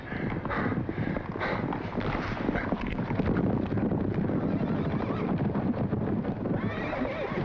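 Hooves clatter in a quick, busy rhythm under wind and rustling, with a horse whinnying and snorting amid the commotion.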